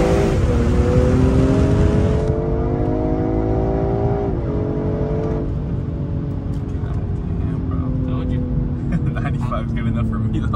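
A 2022 BMW M340i with a custom single exit exhaust pulls hard from inside the car, its engine note climbing through a gearshift and then continuing to rise, loud and steady, with a voice talking under it.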